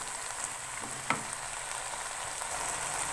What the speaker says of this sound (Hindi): फ्लेम थोड़ी सी हाई करेंगे और टमाटरों के साथ इसको अच्छी तरह से भून लेंगे